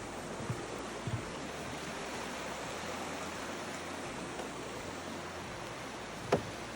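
Steady broadband rush of a river flowing along a valley road, a constant wash with a couple of faint knocks and a brief sharp tick near the end.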